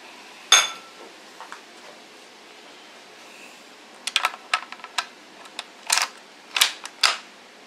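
Rifle bolt being worked and twisted in its slot: a sharp click near the start, then a run of metallic clacks and slides, each distinct and close, with no talking.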